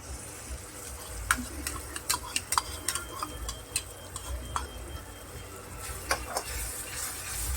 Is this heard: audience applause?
no